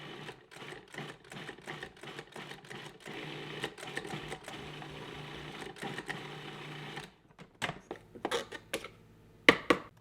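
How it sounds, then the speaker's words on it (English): A food processor grinds split peas for Trinidad roti, making steady, fast, rattling pulses like a sewing machine for about seven seconds, then a few separate clattering bursts as it stops. "Next, I'll try the food processor."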